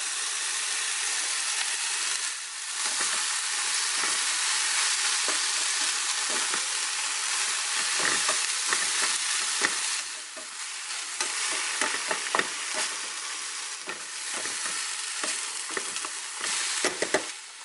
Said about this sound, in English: Now add the vegetables.